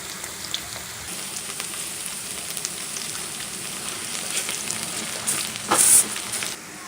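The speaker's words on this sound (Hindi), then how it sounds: "तेल गरम हो गया है, अभी इसमें प्याज डालेंगे।" Two large chopped onions frying in hot oil for Hyderabadi masala chicken give a steady, close sizzle and crackle, with a brief louder burst of spattering near the end and no talking.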